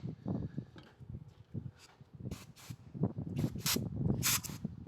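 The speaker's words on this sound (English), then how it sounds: "Some brake cleaner." Aerosol brake cleaner sprayed in several short hissing bursts during a brake job on a 2011-2016 Kia Sportage, with intermittent clanks and handling noises underneath.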